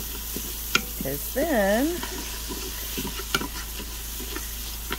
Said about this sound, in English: And hopefully these onions will deglaze.